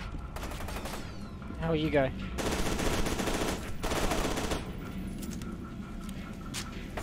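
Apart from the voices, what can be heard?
gunfire in the video game F.E.A.R. 2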